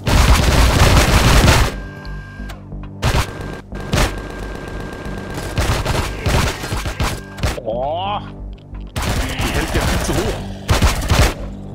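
Bursts of gunfire and impacts from a firefight in the sci-fi game Empyrion Reforged Eden, loud at the start and end with quieter shots and clanks between, while a player talks.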